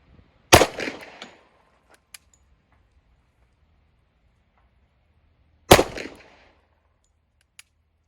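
Two loud, sharp shots from a Sig Legion P220 10mm pistol fired double action outdoors, spaced about five seconds apart, each with a short echoing tail and small clicks between.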